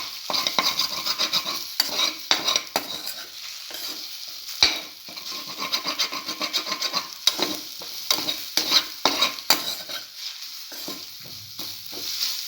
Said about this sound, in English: Scrambled egg.